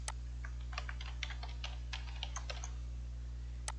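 Rapid, uneven keystrokes on a computer keyboard as a username and password are entered into a TP-Link Omada network controller login, faint and close over a steady low electrical hum, with no talking.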